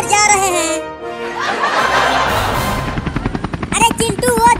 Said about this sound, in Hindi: अरे चिंटू वो देखो हेलीकॉप्टर उड़ रहा है।